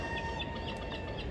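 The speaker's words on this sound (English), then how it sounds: "it seems like the pigeons like it here as well" Pigeons in Llangollen, near a river, call as a soft, continuous chorus of bird sounds within steady outdoor background noise.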